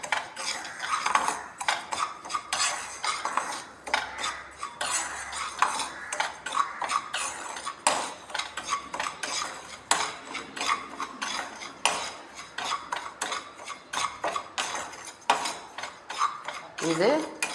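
Broken rice dry-roasting in a pan, a spoon scraping and clinking steadily against the metal in quick rhythmic strokes, close and fairly quiet.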